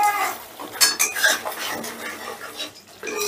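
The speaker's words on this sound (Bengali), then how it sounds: "মশলাটা আমি বেশ কিছুক্ষণ কষে নিলাম" Thick spice paste being stirred and sautéed in a pan for a vegetarian moong dal fritter curry, with scraping and clinking spoon strokes against metal in an irregular rhythm, close and fairly loud, no talking.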